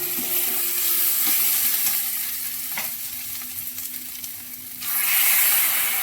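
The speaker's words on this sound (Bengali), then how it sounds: "এবার পেঁয়াজ বাটাটা দিয়ে দিলাম।" Onion paste fries in a little oil for a home-cooked raw mango dish, a steady broadband sizzle running throughout with a few soft stirring scrapes, dipping briefly before surging louder again near the end.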